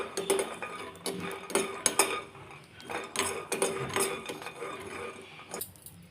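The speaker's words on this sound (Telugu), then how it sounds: "ఇలా పల్లీలు వేయించుకోవాలండి." Peanuts being dry-roasted in a pan on the stove, with repeated clattering and scraping as they are stirred and tossed, in irregular bursts of metallic and gritty rattles.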